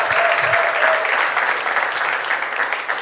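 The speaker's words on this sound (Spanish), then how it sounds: "Vamos a recibirlos con un fuerte aplauso en esta mañana." An audience at a morning church gathering gives loud applause to welcome guests, dense steady clapping from many people that holds throughout and tapers slightly toward the end.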